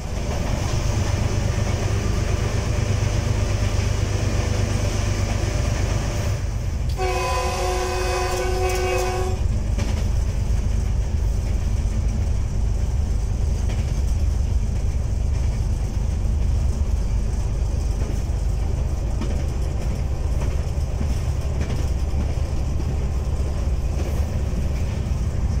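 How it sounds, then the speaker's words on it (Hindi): The Sir Syed Express passes through a long tunnel between Kalyam Awan and Mandra stations, with a loud steady roar and rattle of rail cars, a two-second horn blast partway through, and the din continuing alone. "ये दूसरी सुरंग है जो कल्याम आवान और मंदरा रेलवे स्टेशंस के दरमियान है। ये कदरे लंबी है और एहसास होता है कि ट्रेन वाकई किसी अंधेरी जगह से गुजरी है।"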